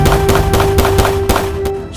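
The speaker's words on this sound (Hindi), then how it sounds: "हरीश दुलानी ने सलमान खान को काले हिरण पर गोली चलाते हुए देखा" A rapid burst of loud gunshots rings out in a close, evenly spaced string of about seven cracks over a steady low drone, fading out at the end.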